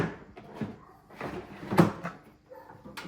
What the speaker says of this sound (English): We're gonna go ahead and put the drawer. This is waste drawer.